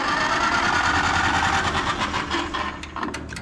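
An antique tractor engine turns over on the starter, a loud, steady, buzzing crank that holds for a few seconds before easing and breaking into irregular sputters near the end.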